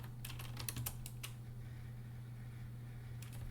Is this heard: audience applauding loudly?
no